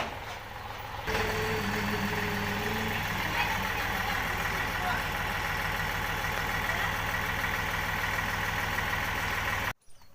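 A tractor's engine idles and rumbles steadily at close range while the trailer is unloaded on a farm, a continuous mid-pitched drone filling the whole stretch before cutting off abruptly near the end.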